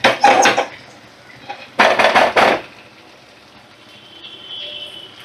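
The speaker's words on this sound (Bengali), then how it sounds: "দেখো এই রান্না করা যে মাংসটা এই তেলের মধ্যে দিয়ে দেব।" Cooked chicken for a chicken kala bhuna tipped into oil in a pot: two loud clattering bursts of metal against the pot, then a soft steady sizzle.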